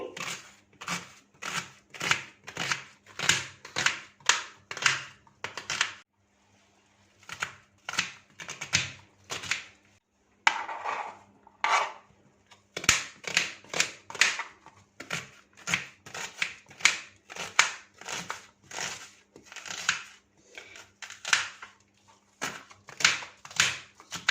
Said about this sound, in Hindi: इसी तरह से सब प्याज को कटिंग कर लेंगे।